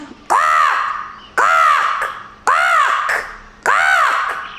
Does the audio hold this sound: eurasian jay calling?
yes